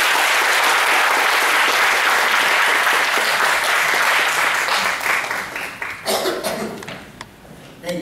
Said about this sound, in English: Let's all have applause to welcome Dr. Satish Kumar, please.